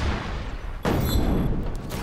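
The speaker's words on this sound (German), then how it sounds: "Explosion." Sudden heavy explosion blast in the open-world action game Just Cause 3, breaking in after a quieter rumble and then trailing off into a long, rolling boom with faint crackling debris.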